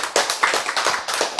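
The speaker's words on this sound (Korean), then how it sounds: "박수 치세요" Audience clapping at a health lecture, a quick burst of sharp claps in irregular rhythm lasting little more than a second, close and fairly loud with no talk over it.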